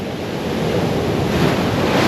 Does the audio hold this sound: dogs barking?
no